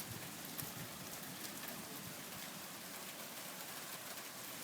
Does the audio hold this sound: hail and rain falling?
yes